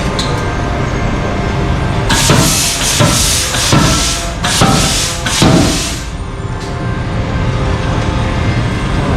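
Heavy repeated strikes of a forging power hammer on hot metal in a factory, an irregular cluster of loud blows over a constant industrial roar, then the pounding stops and the machinery hum continues.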